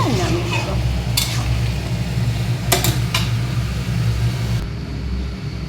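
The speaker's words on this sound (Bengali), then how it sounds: "ভাজা হয়ে গেছে, এবার আমি জল দিয়ে দেবো।" Spices frying in a pan as water is poured in, giving a steady loud sizzle with a few sharp hissing bursts and light scraping over a constant low kitchen hum.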